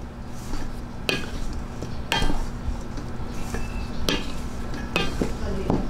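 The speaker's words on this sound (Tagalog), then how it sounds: "Ayan, mix lang po natin." Batter with baking powder stirred in a bowl, with a utensil scraping and clinking against the sides at an uneven rhythm, close and moderately loud over a faint background hum.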